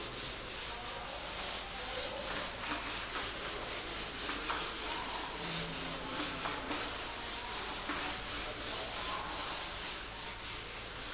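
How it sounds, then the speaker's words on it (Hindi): A teacher wipes a classroom board clean, a steady continuous rubbing and scrubbing texture that runs throughout with repeated strokes, fairly close and moderately loud, with no talking. "मैम यहाँ पर बोर्ड रब कर रहे हैं"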